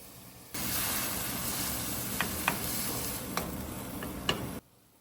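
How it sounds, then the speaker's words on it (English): Seafood and vegetables stir-frying in a pan give a steady, close sizzle and hiss, with a few sharp clicks and scrapes of the utensil against the pan. "Stir-fry everything until softened."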